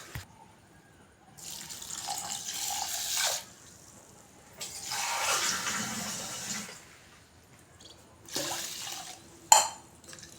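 Parboiled rice being washed by hand in water, with three long sloshing, splashing bursts and a brief sharp knock near the end, close and alone without talk.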